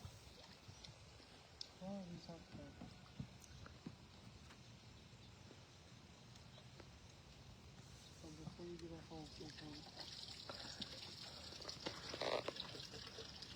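Water trickles and drains steadily out of an emptied animal water trough at a rescue, a low continuous wash with faint voices and outdoor activity around it.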